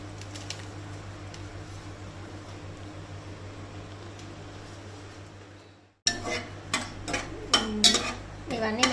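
Whole biryani spices, including shahjeera and poppy seeds, fry in a pan with a steady low hiss over a hum. Then come close, repeated scraping and clattering strokes as they are stirred.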